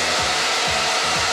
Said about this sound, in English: You can use the hairdryer